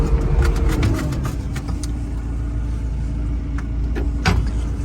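A JCB 527-58 agri telehandler driving in its faster gear, its engine a steady close mid-pitched drone with a few clicks and knocks over it, and no voices.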